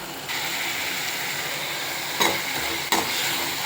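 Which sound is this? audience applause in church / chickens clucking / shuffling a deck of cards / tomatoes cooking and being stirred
tomatoes cooking and being stirred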